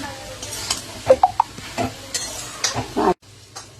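A spoon stirs bottle gourd leaf and potato curry in a pan, scraping and clinking in short uneven strokes over a faint sizzle, then stopping abruptly near the end.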